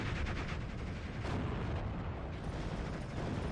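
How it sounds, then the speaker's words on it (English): Dense, continuous battlefield gunfire and explosions roar from a Panzer IV firing its machine guns and main gun in the Steel Division 2 video game, loud and unbroken throughout. "I'm hoping that the machine guns plus the main gun should be able to get the job done before it kills us"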